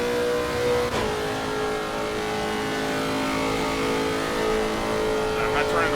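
A Lexus RC F GT3 racing car in Assetto Corsa Competizione runs at full throttle with a loud, steady, high engine drone that rises slightly, while a driver talks over it.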